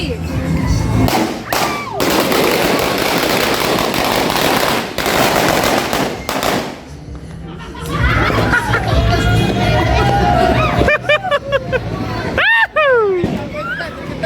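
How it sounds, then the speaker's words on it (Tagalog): Dense crackling bursts of firecrackers and fireworks pop and bang continuously at a 2026 New Year celebration, with whistling rockets and people talking and shouting amid the noise. "Ang daming paputok ngayon."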